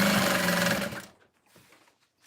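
A sewing machine at stitch length 5 hums loudly and close while stitching along the open top edge of a fold-over bag, then stops after about a second, leaving quiet handling noises.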